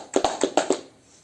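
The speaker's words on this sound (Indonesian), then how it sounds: "Tepuk tangan buat kita semua." Students in a chemistry class give a handful of sharp, separate hand claps, about five in quick succession, that stop after under a second.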